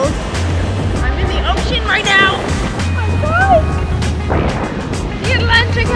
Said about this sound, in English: Ocean right now. Oh my god. The Atlantic Ocean.